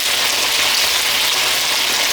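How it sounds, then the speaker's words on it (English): Chopped onion sizzling in a hot pan alongside pan-seared lamb chops, a steady close hiss of frying fat that runs evenly without pause and with no voices. "we'll just dump in one chopped up onion so that the onion flavors can get into these lamb chops"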